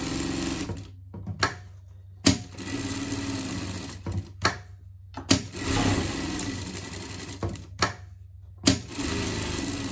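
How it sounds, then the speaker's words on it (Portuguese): Sewing machine stitching a seam around a fabric piece for a festival-style pet outfit, running in several steady bursts of rapid mechanical chatter separated by short pauses, close and fairly loud, with no talk. "Vamos fazer uma costura aqui por tudo, pra gente estar virando a nossa peça."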